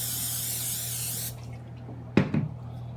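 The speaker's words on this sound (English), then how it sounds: "I'm gonna have to spray a little bit on this." A can of Aldi olive oil pan spray gives a sharp, hissing burst for a little over a second, then stops, followed by quiet and a brief clatter of handling.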